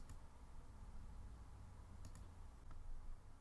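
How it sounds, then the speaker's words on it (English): Keyboard keys, Page Up and Page Down, are tapped a few times at a computer, giving faint sparse clicks over a quiet room hum with no talking. "I can also cycle through by hitting the Page Up or Page Down buttons on your keyboard."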